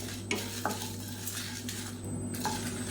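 Dried red chillies and spices, with a sprig of curry leaves, are stirred and dry-roasted in a pan for a brinjal potato curry: a soft continuous sizzle and scrape with occasional clinks of a spoon against the pan.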